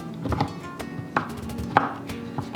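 Knife chopping white chocolate bars finely on a board, a series of irregular close crisp cuts with short gaps, no voices.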